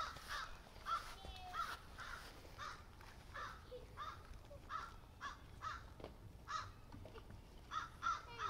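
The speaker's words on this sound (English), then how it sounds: "That crow is really angry for some reason, right?" An agitated crow in an outdoor heritage park caws again and again in short, evenly spaced calls, faint and somewhat distant against a soft background hum.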